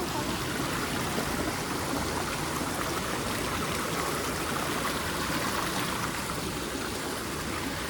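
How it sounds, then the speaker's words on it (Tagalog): A strong stream current rushes along the Brides Pool nature trail, a dense, steady roar of flowing water that holds at an even loudness throughout, close by and with no voices over it. "Laki ng agos ano."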